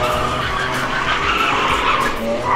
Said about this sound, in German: ich kann ja mit meiner scheiß Daily mal meine Sommerreifen runterdriften und zerschießen